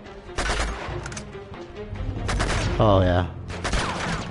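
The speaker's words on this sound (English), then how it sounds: "Hey, is someone shooting me?" Bursts of gunfire during a firefight in the video game Uncharted 2: Among Thieves, loud volleys in several clusters, with a voice speaking briefly over them.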